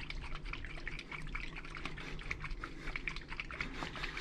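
A sealed container of olive oil, mustard and vinegar dressing shaken hard by hand gives a steady, busy sloshing and rattling that runs without pause, fairly close and moderately loud.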